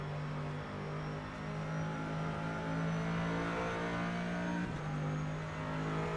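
Corvette GT3 race car in rFactor 2 at Indy, its engine holding a steady high drone with a brief dip and recovery partway through, loud and continuous with no other sounds.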